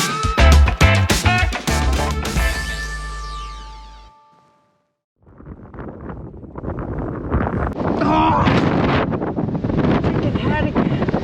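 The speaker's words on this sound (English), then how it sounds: "It's getting a little too windy." Strong gusty wind buffeting the microphone on a snowy mountain road at Mt Graham, heavy roaring blasts after a burst of music and a short silence.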